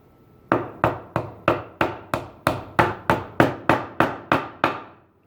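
Steady series of about twelve sharp wooden taps as a dowel peg is tapped into its hole until it bottoms out, evenly spaced and close, each crisp and quickly decaying, ringing slightly differently toward the end.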